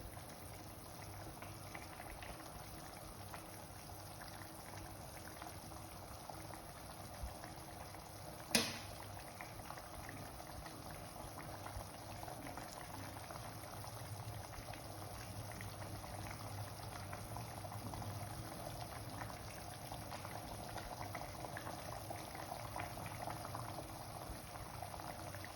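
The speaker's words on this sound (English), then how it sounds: "Let it boil a little." Matar paneer curry of green peas and cottage cheese bubbling in a pan, a steady low simmer with soft continuous popping, quiet and close, with one brief sharp clink partway through.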